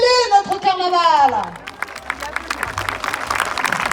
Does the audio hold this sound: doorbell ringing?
no